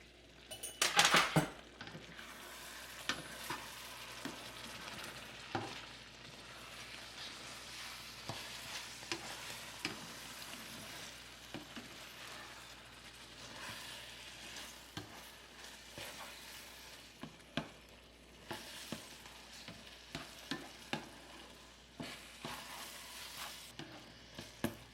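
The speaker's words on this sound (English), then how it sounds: "And after that, you put the beef in it. Also some onion, green onion." Beef with onion and green onion stir-frying in a pan for Cantonese beef with egg sauce: a steady close sizzle runs throughout, punctuated by frequent sharp clinks and scrapes of a utensil against the pan.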